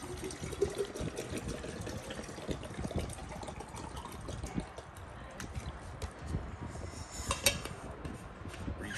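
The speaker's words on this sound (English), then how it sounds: "Refill my thermos really quick." Water runs steadily into a thermos, a continuous splashing fill with a faint clink of metal near the end, close and moderately loud throughout.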